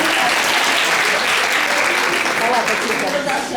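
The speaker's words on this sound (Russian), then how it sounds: "давайте похлопаем" An audience claps steadily and fairly loudly for a few seconds at a gathering, the dense applause carrying on without a break.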